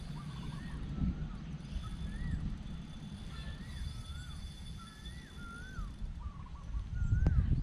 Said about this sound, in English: That bird sounds like a curlew